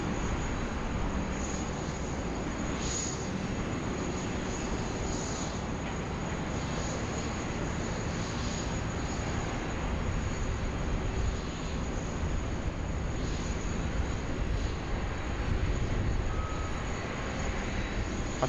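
A Boeing 747 with CF6 engines taxis in to a gate at Sydney Airport, giving a continuous broad, rushing jet roar with a faint high whine, steady and moderately distant throughout, with no talking.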